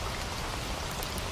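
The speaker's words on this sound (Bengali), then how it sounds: "টিনের চালের উপর টুপটাপ শব্দে জমে উঠেছে এক নিঃশব্দ গান।" Rain patters densely and steadily on a tin roof at a tea stall, a continuous close hiss of drops with no voices.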